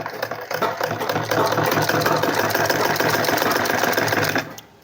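Sewing machine stitching a velvet hoodie, a steady close mechanical whir with a fast rattling needle rhythm running continuously before stopping abruptly at the end.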